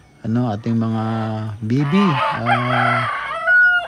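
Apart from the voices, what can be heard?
chickens and rooster clucking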